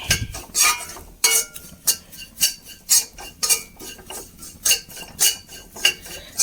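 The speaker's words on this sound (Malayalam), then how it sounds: "അതും കൂടി ചേർത്തൊന്ന് ഇളക്കി മൂപ്പിച്ചെടുക്കാം." Chili powder being stirred and roasted in a pan with a metal spoon, a steady series of sharp scraping clinks against the pan at a regular rhythm, close and clear with no talking.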